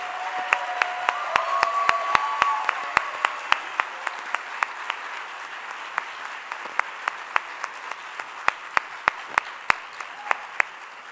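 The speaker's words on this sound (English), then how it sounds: "how about let's applaud Lindsay Matheny, Daryl Cullifer, Kevin Ford, Christy Bassett, and Jill Espinoza." Audience applause for the Florida Teacher of the Year finalists at a 2015 ceremony, a steady wash of clapping with sharp individual claps standing out throughout, and brief faint tones early on.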